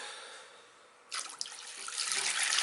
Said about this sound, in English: And then we can go ahead and finish filling up the water.